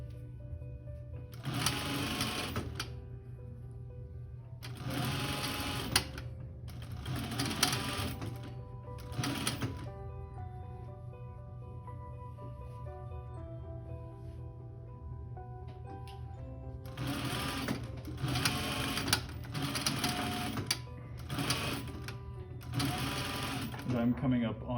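A sewing machine stitches a coat lining on a blanket coat in repeated short bursts of whirring, close by, while a person talks throughout.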